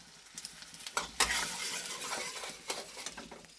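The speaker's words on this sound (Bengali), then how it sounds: "এবার এর মধ্যে দিয়ে দেবো এলাচ লবঙ্গ দারচিনি একটু সামরিচ সব একটুখানি এর মধ্যে মাখনটার মধ্যে একটু ভেজে নেবো ভালো করে" Cardamom, cloves, cinnamon and a little black pepper fry in oil and butter for biryani, giving a soft, fairly faint sizzle with a few sharp stirring scrapes and clinks.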